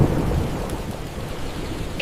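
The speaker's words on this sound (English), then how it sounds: "it's getting really stormy" Rain falls in a dense, steady wash while deep thunder rumbles low underneath, loud and continuous throughout a stormy stretch, with no voices over it.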